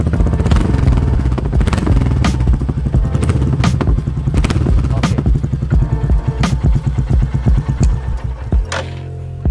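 Royal Enfield Meteor motorcycle engine running with a deep, bassy thump, loud and close, with steady pulsing beats and clattering throughout before easing near the end.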